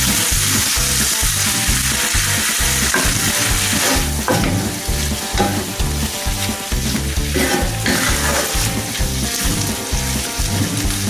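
Fried dumplings sizzle steadily in a pan of hot oil, a loud, continuous crackling fry with a busy, rhythmic texture and no talking.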